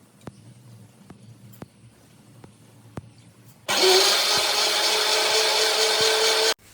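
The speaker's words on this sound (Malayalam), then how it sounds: "ഇനി വേണം ഓട്ടടക്കുള്ള അരി അരക്കാണ്ടേ" A kitchen grinder grinding rice for ottada batter starts after a few quiet seconds of faint ticking, then runs with a loud, steady, dense whirring roar before cutting off.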